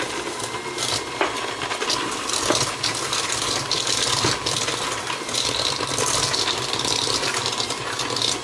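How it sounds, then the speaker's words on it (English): Electric mixer creaming shortening and sugar for an English currant tea cake, a steady continuous whir with faint scraping and rattling against the bowl, moderately loud and alone throughout. "now I'm gonna go ahead and cream the sugar and the shortening together."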